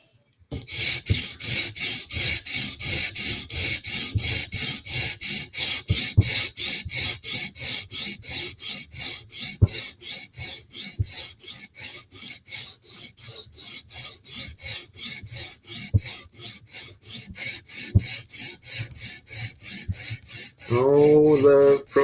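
A knife blade edge being sharpened on a stone, with steady rapid back-and-forth rasping strokes repeating evenly and close for a long stretch.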